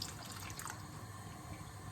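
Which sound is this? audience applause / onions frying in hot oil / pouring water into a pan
pouring water into a pan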